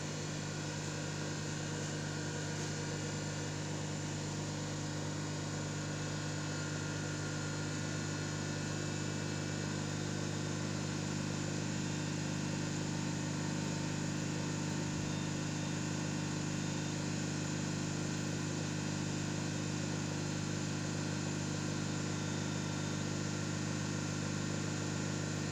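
An electric motor running under brake load on a laboratory test bench, a constant droning hum with steady tonal whine and vibration held unchanged for the full length, close and alone.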